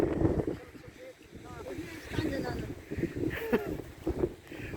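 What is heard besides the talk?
wind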